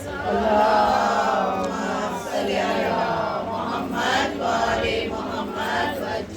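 A large gathering of mourners at a Shia majlis chanting slogans together, a loud, sustained mass of voices rising and falling in unison, close and filling the space throughout.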